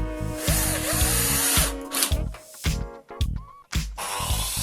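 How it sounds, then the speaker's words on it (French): A cordless power drill drives screws into bamboo tiki bar parts, with loud whirring bursts that start and stop, the motor ramping up and down between short pauses. "Et je visse les éléments entre eux."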